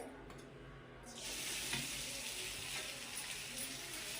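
Grated sweet potato drops into hot melted ghee in a kadai and starts a steady, loud sizzle after a brief quiet start. The frying hiss fills the rest of the moment with no talk.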